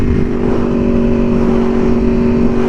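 A 2015 Aprilia Tuono V4R motorcycle engine holds a loud, steady droning note close by, with no clear rise or fall in pitch during the short stretch.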